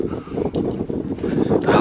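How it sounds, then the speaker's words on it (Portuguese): Gusty wind buffets the microphone on a walkway in Bryce Canyon, a steady rough rumble with brief louder gusts and no speech. "Olha só, e o vento, poeirão"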